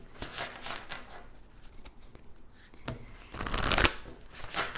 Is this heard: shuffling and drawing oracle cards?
yes